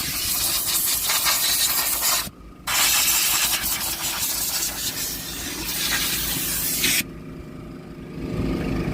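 Cleaner sprayed inside a truck cabin during interior detailing, long loud hissing bursts from a pressurized sprayer with short pauses between them, close up.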